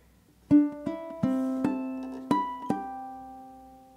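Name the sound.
ukulele playing second measure of Joplin's The Entertainer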